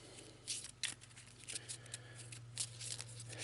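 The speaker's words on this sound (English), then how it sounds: "So what we'll do is we'll give these a quick shuffle." A deck of cards for the board game Waste Knights is given a quick shuffle near at hand, making repeated soft riffling bursts over a low steady hum, with no talk.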